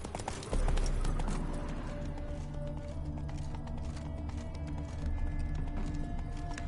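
Hooves of Roach, a horse in a PS4 video game, clip-clopping in a steady, fairly close rhythm that carries on throughout, over a low game background.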